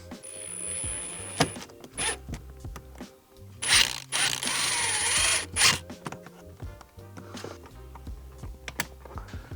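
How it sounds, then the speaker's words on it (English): A power drill whirs in a couple of sustained bursts, drilling and tapping a radio mount, surrounded by clicks, taps and knocking of tools on metal. "we're gonna have to drill and tap this mount."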